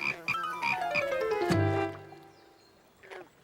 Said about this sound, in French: ce sont des têtards, pas des poissons, ce sont des bébés grenouilles